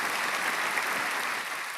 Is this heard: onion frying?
no